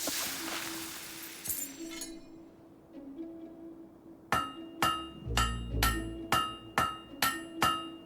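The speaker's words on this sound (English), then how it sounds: "Stop hitting the anvil." In the Fable 3 video game, a hammer strikes an anvil while a blade is forged. After a few scattered clinks and a brief low thud, eight evenly spaced metallic hits ring out in a steady rhythm.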